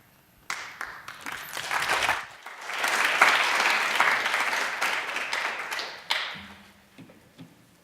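An audience at a cardiovascular research day applauds the speakers, dense clapping swelling after a few early claps, holding steady, then tapering off into scattered claps near a quiet room.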